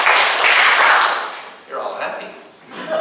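A church congregation at a worship service claps hands in a burst of broadband applause that swells and then fades, followed by a voice speaking as the clapping tapers off.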